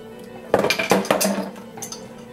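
A spoon clanks and scrapes against a pot while salted beef broth is mixed, a quick cluster of metallic knocks and clinks that fades after a couple of seconds.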